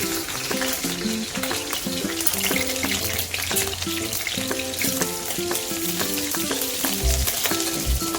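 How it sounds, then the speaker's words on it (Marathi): Green chillies fry in hot oil with a loud, dense, continuous crackling sizzle that runs steadily throughout, while tuneful background music plays underneath. "हिरवी मिरची चांगली तळून घ्यायची."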